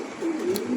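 A pigeon at a breeding farm gives a single short, low, soft coo, close by and alone, with no talk.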